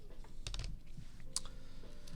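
Fingers tap on a computer keyboard in a short, quiet burst of clicks, a few scattered keystrokes close to the microphone with faint room noise beneath.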